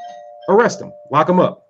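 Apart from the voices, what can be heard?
doorbell ringing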